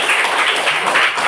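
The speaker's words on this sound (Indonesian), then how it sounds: "Berikan tepuk tangan dulu untuk kita semua." Congregation applauding during a church session, a loud, close, continuous wash of many clapping hands with no gaps.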